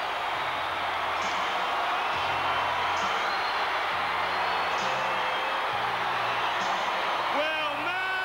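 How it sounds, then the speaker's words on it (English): A big indoor wrestling crowd roars steadily and loudly, a dense wash of cheering and shouting with no pauses. "Listen to this crowd."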